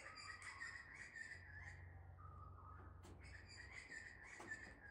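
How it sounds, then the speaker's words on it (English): Loud, repeated butcher bird calls ring out over steady outdoor ambience, with a bright piping song and scattered chirps continuing throughout. "And that in the background's a butcher bird."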